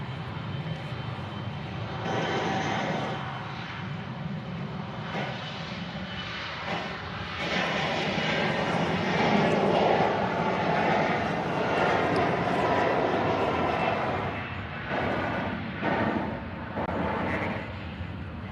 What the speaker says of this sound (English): Next flight is another United Express and the Embraer E175 head to Houston.